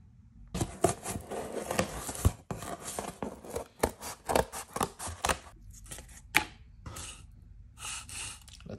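Scissors snip and rasp through paper or card while a drawn design is cut out for a diorama backdrop, a close series of irregular cuts and rustles with brief pauses.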